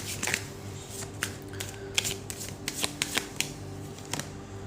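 Tarot and oracle cards being shuffled by hand up close, a steady run of soft riffling snaps and papery flicks with a few sharper peaks, no talking over it.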